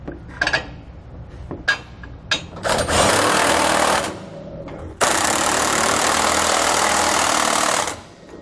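Power tool buzzing as it drives nuts onto a Roadmaster rear anti-sway bar bracket on a 2019 Fleetwood, with a few short clicks and clanks first, then two loud sustained whirring bursts close up.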